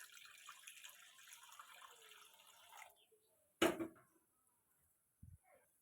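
Water streams steadily into a cooking pot on the stove, ready for boiling raw mangoes, then stops; a single sharp clank of the pot follows, and a faint knock closes the otherwise quiet stretch.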